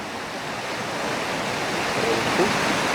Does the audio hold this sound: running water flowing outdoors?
yes